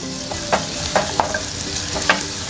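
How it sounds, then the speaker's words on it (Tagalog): Garlic sautéing in cooking oil for a fishball sauce, a close, steady sizzle with several quick spatula scrapes and taps in the pan, with no voices. "Gisa tayo ng bawang."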